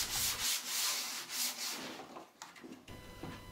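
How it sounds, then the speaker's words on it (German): Sandpaper rubs back and forth over the sharp edges of a wooden router fence, rhythmic scratchy strokes that come up close and clear, then turn into shorter, lighter rubs. "Die scharfkantigen Teile der Fräslineale runde ich mit Schleifpapier etwas ab."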